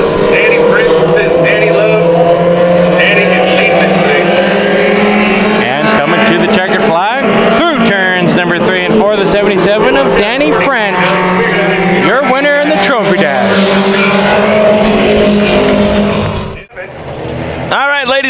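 Pony stock race cars roar continuously at Havasu 95 Speedway, their loud engines droning and shifting pitch as they pass, with an announcer's amplified voice talking over the din before a sudden dip near the end.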